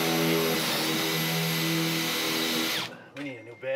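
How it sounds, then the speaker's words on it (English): A power drill bores through a metal gusset plate while a farm shop metal ceiling is installed. The loud, continuous whine runs for about three seconds, then cuts out, leaving a few brief clatters. "drill and place a wire all the way through"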